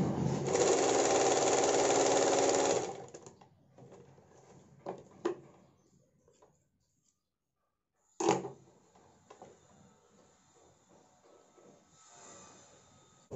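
A sewing machine runs in a fast continuous burst while stitching a sleeveless blouse, then stops, followed by a few clicks and handling noises before the motor starts again briefly.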